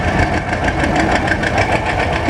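A two-cylinder John Deere 530 row crop tractor with a single front wheel runs steadily nearby, its engine throbbing with a rough, even chugging at a show.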